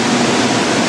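Water rushes steadily through a modern turbine-type water wheel inside a small hydroelectric power plant, a loud, constant broadband roar with a low hum underneath, no voices.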